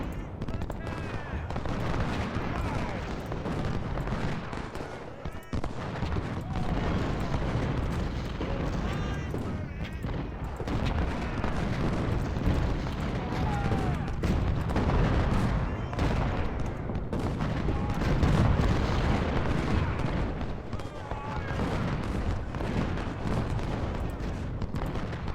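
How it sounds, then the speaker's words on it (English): Cannon and musket fire rumble continuously in the Civil War strategy game Ultimate General: Civil War at the Cold Harbor battle, with dense overlapping booms and crackle throughout while someone talks over it. "Oh, that artillery."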